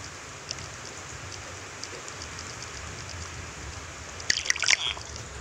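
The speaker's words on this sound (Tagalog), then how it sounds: "Lakas pa ng ulan dito eh." Heavy rain falls in a dense, steady hiss and patter. Some louder drips and splashes come close toward the end, and no one talks over it.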